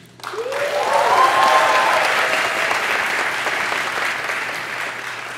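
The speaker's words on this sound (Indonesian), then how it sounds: "Tepuk tangan untuk Georgetown Uni." Audience in a university lecture hall at Georgetown University in Washington, D.C., breaking into sustained, dense applause that rises quickly and holds steady, with a brief voice at the start.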